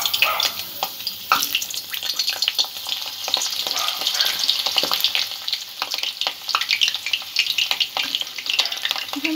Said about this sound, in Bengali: আলু আর পটলটা আমি আলাদা আলাদাভাবে একটু ভেজে নেব।